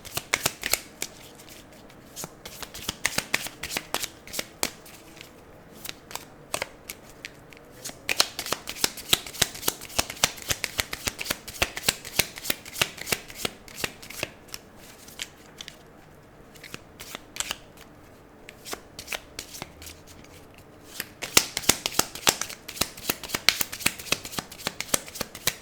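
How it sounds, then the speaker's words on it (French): Tarot cards being shuffled by hand in a quiet room, a dense run of crisp riffling and flicking that carries on steadily for the whole stretch, close and alone with no talk. "je mélange les cartes"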